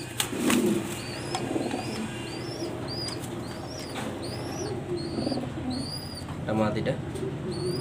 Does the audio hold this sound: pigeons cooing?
yes